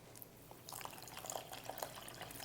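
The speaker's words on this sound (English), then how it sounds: "So you're going to pour on water on the cornmeal," Water poured onto dry cornmeal for Jamaican turned cornmeal makes faint close trickling and dripping splashes that grow slightly over a couple of seconds, with no talk.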